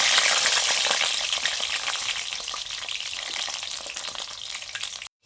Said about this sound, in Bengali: প্রথমেই আমি কেটে রাখা বেগুনটা ভেজে নিচ্ছি।